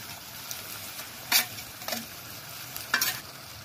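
Sardine going into a hot pan of chopped onion, tomato, cilantro and parsley, with steady frying sizzle and a few sharp stirring scrapes and clatters, close and alone with no talk.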